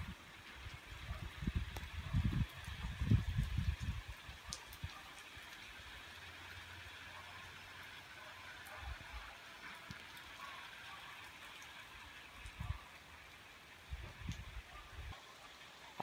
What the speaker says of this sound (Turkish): mayin yağmur yağmaktan ama